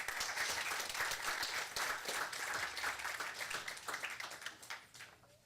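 An audience at a city council meeting applauds a guest coming up, a steady, full round of many hands clapping close by that tapers slightly toward the end.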